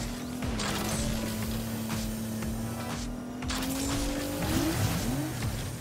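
A fast car in the video game Agents of Mayhem drives with a steady, close engine drone, then its tires squeal near the end as it slides.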